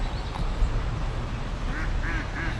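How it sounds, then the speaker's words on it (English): Ducks quack a few times by a river in downtown Greenville, South Carolina, at Reedy Falls Park, moderately distant calls set against a steady wash of flowing water and outdoor background noise. "we're gonna start off with the ducks and the gooses, or the ducks and the geese"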